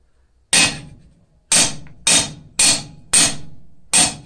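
A blacksmith hammers steel on an anvil while forging a decorative cross, six sharp ringing blows spaced about half a second to a second apart, each decaying quickly, close and loud.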